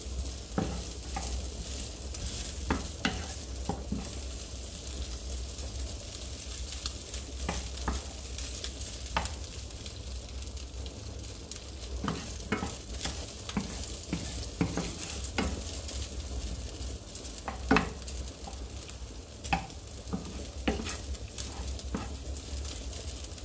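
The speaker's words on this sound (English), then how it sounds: "And our guanciale is getting roasting." Guanciale sizzles and fries steadily in a pan, a soft continuous crackle broken by scattered pops and occasional stirring clicks, with no voices.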